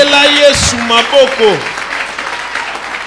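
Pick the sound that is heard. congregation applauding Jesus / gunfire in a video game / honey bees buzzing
congregation applauding Jesus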